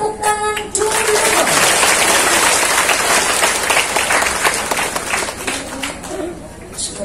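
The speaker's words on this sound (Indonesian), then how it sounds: "Tepuk tangan dulu." A crowd at an Islamic religious gathering at a boarding school bursts into loud, dense clapping after a brief tone, sustaining a heavy rain-like patter before tapering slightly near the end.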